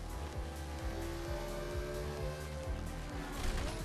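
A car engine revs and drives in the Fortnite racing mode, a continuous near motor drone with rising and falling pitch, faint tire squeal and game effects.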